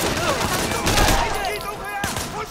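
A dense stretch of rapid gunfire from a Sleeping Dogs firefight, loud and continuous, with crackling shots and overlapping game noise throughout.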